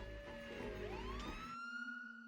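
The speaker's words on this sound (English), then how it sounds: "I love the way the siren sort of is going up, but the volume's going down." A siren in the film Requiem for a Dream wails with its pitch sweeping upward while the volume fades, ending abruptly into a lingering high tone with no talking.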